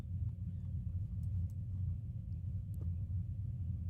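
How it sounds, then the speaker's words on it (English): Low, continuous thunder rumbles over Corpus Christi as a storm rolls in, a steady deep roar filling the whole stretch without clear breaks. "Corpus Christi, there's thunder rolling in."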